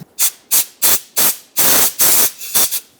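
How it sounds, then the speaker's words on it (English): Short bursts of compressed air blow sand out of a Toyota Camry exhaust part, about eight sharp hissing blasts in quick succession, close and loud. "I'm just going to blow some compressed air to clear it out"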